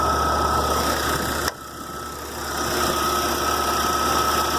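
Engine of a 1999 Jeep Cherokee idling steadily with a fresh battery and new plugs and wires, a close, even mechanical drone with a faint high whine that dips briefly and then recovers.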